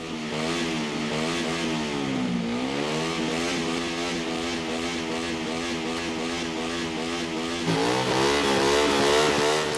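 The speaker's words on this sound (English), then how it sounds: "Jamie and the rest of his family are awoken by a motorcycle being revved across the road on Jeffrey's doorstep." A motorcycle revved across the road at night, its engine rising and falling through drawn-out revs, then surging louder near the end, close and continuous with no voices.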